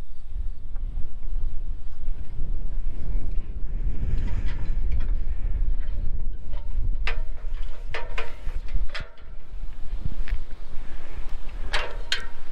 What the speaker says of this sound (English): This breeze is definitely not making it easy.